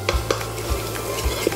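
Red chili flakes and spices toasting in a hot pan for a sweet potato and chickpea dahl, a close, steady sizzle broken by a few soft scraping stirs.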